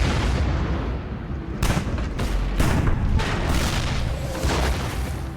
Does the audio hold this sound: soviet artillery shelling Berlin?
yes